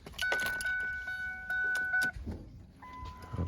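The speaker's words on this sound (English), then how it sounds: "you put the key in ignition." A car key is pushed into the ignition and turned, with keys jangling in a few short metallic clicks while a steady electronic chime tone sounds close by; no one speaks.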